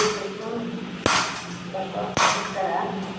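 Two sharp metallic hammer strikes about a second apart ring against a wire mesh cable tray as it is bent into a 90-degree curve, clanging loudly over a low background hum.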